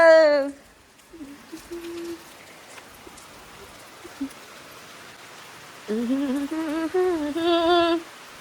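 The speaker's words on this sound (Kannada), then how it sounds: "ಎಷ್ಟೊಂದು ದಿನ ಆಗಿತ್ತಂತೆ ಮಳೆ ನಾನು ಬಂದಿದ್ದೀನಿ ಅಂತ ಮಳೆ ಬಂದೈತಿ ಇವತ್ತು" Light rain falls in a village as a faint, steady patter. Brief tonal calls or voices rise over it at the start and near the end.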